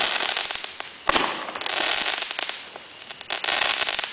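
Fireworks crackling outdoors in a driveway at night, a dense, sputtering shower of crackles with a few sharper pops, close and fairly loud, rising and falling in bursts over about four seconds.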